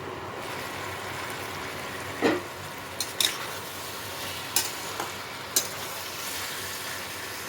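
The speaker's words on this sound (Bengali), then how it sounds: "দুটোকে ভালো মতো মশলার সাথে কষিয়ে নেব" Fried potatoes and prawns, with green jackfruit, sauté with spices in a pan: a low, steady sizzle runs throughout, broken by a few sharp clinks and scrapes from the stirring spoon.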